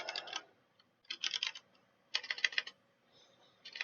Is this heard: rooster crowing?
no